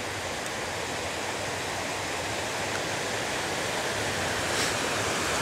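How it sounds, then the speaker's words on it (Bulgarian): Skakavitsa waterfall roars from a distance through fog, a dense, unbroken wash of noise holding steady throughout with no voices. "Ето го водопада през мъглата отдалече."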